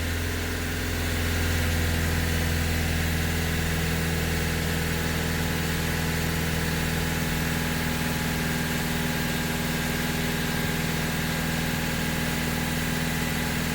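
A Vauxhall Vivaro diesel van with a blocked DPF idles in a steady, low rumble that holds a constant pitch throughout, close and continuous with no voices.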